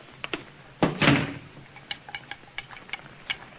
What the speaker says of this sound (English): Kick it shut.